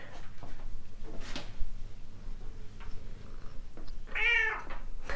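A cat gives a single clear meow near the end, preceded by soft ticking and household shuffling noises.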